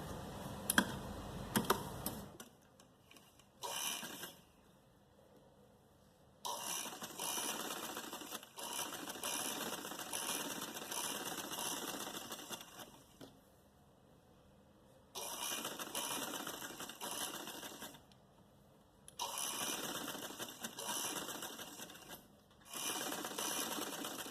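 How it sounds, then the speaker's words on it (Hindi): A sewing machine stitches a folded round neckline on a garment, running in long whirring bursts separated by quiet pauses, close and moderately loud. "यहाँ से हम इसको इस तरीके से फोल्ड करके और यहाँ पे हम एक सिलाई लगाएंगे।"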